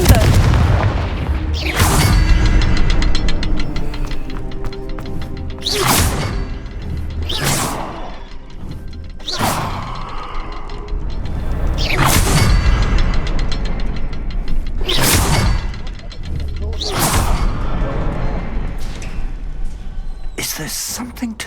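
In Hogwarts Legacy, Confringo fire spells burst into a series of loud booming explosions, about eight heavy blasts at irregular intervals over a low rumbling backdrop, with someone talking between them.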